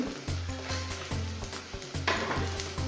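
Coriander seeds and cumin dry-roasting in a pan for kadle manoli sukka, a steady close sizzle broken by regular scraping stirs roughly every half second, with no talking.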